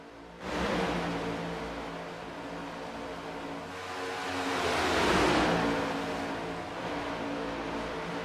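NASCAR Next Gen race cars pack-racing at Talladega Superspeedway in iRacing, a steady loud roar of engines and rushing wind that swells midway as cars pass close, continuous with no voices.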